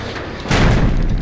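A heavy door slams shut in the video game Jurassic Park: The Game. Low ambience is followed by a single loud, close thud that carries on as a rumbling boom.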